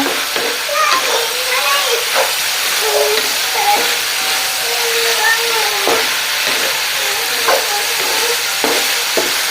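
Young jackfruit (gori) cooks in a pan with a continuous soft sizzle and hiss, broken by light stirring clatters.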